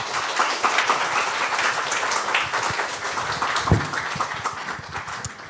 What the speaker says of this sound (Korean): 여러분 나오실 때 큰 박수로 맞이해 주시기 바랍니다